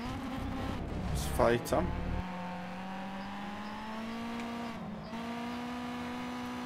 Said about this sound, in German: Jetzt Kickdown geben und weiter geht's